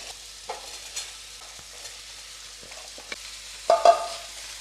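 Spring onion stalks stirred in a pan with chilli paste, a soft steady sizzle broken by scattered spatula scrapes, ending in a louder burst of clattering stirring, with no talk.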